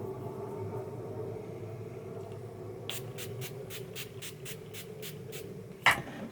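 A pump bottle of NYX Dewy Finish setting spray is misted onto a face, about a dozen quick evenly spaced spritzes in a row, fairly soft against a low room hum.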